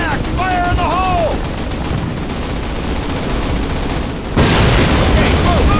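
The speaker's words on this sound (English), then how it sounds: "plant your explosives and take that Black Panther out" Explosives blow up a Panther tank in the Call of Duty D-Day battle, heard as a sudden heavy blast amid a continuous din of gunfire and shouting soldiers.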